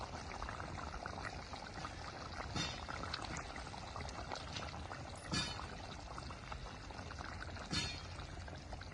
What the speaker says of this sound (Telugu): చేప ముక్కలు వేస్తున్నాను